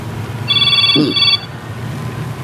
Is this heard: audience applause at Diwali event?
no